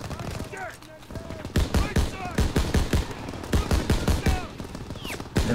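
Rapid bursts of LMG gunfire from a Call of Duty WWII campaign, with loud rattling volleys and sharp impacts across a noisy battlefield mix.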